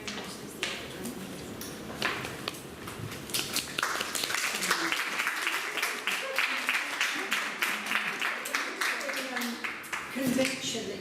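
Conference audience applauding a keynote speaker at a university: continuous, moderately distant clapping from a crowd that lasts the whole stretch, with some voices faintly underneath.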